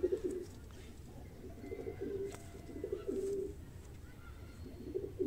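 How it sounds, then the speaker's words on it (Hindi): High-flying parwazi pigeons coo in soft, repeated throaty bursts every second or so, close but faint against a quiet background. "समझदारी बड़ी जी इन कबूतरों में, लाल आंख में लेकिन समझदार बहुत हैं जी।"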